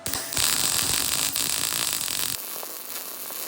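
Arccaptain MIG 200 welder pushing a bead on 1/8 inch material, a loud continuous crackling hiss with spattering pops that runs for about two seconds and then cuts off abruptly, leaving a faint hum.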